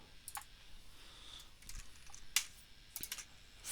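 Typing on a computer keyboard while entering schedule fields in Revit 2020: scattered, close key clicks in short irregular bursts, with one sharper tap, alone with no talk.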